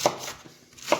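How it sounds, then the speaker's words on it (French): Knife roughly chopping leftover cauliflower on a board, a few sharp close cuts at the start and end of a short quiet moment. "vous coupez grossièrement ce qui vous reste en chou-fleur"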